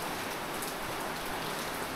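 Steady rain falling outdoors onto surfaces and overhead electrical cables, a dense continuous hiss of drops at even loudness with no voices.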